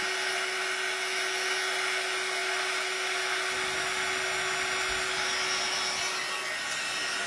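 A dryer blows steadily across wet paint on a plastic snowman being made over into a primitive style, a continuous loud whoosh with a faint tonal whine running through it and no talk.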